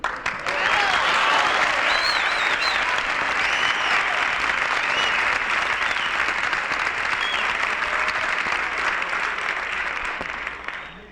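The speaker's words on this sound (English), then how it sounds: "you were expressing your love with all your applause and your cheering" A large audience at a circa-1960s Naval Training Center event in Orlando, Florida bursts into sustained applause and cheering, a dense roar that swells in at the start and holds loud and steady for about ten seconds, fading slightly at the end.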